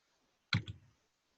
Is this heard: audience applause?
no